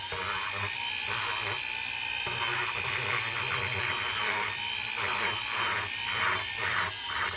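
A Kutzall rotary burr on a 1/8-inch shaft grinds into wood with a continuous high-pitched whine, its pitch dipping in repeated pulses as it bites into the material, loud and close throughout.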